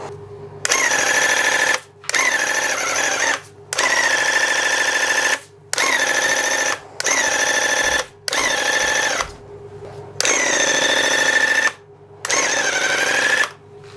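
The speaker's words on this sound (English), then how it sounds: "that's the Grako Ultra Airless Handheld Sprayer" A Graco Ultra airless handheld paint sprayer lays down a final coat in a small workshop, firing in about eight loud, close hissing bursts of one to two seconds each, separated by short silent gaps.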